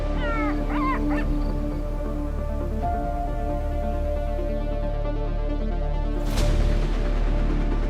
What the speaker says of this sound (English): two jackals were barking at a leopard for being too close to their den.